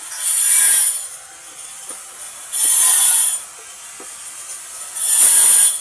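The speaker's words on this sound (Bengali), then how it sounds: "বাসায় টাইলস লাগানোর কাজ করছে, তো টাইলস কাটার শব্দে কিছু শোনা যাচ্ছে না" Tile cutting during home renovation: three loud, hissing bursts of a cutter biting into tile, each lasting about a second, with quieter gaps between them and faint background noise.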